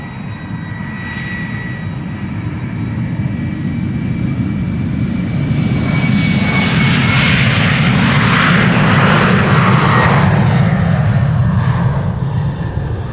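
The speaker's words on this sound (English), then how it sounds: "The mic is picking up the engines of the A330. That's what you're hearing now." An Airbus A330's jet engines at Amsterdam Schiphol Airport make a loud, continuous roar that swells and grows brighter as the aircraft powers up nearby, with a whining tone layered over the broad rumble.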